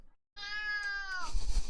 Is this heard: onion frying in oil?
no